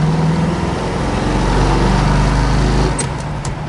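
A 1969 Chevrolet Camaro Z28 engine pulling hard in first gear, a loud steady droning roar that builds and then drops away near the end as the shift comes, heard from inside the car.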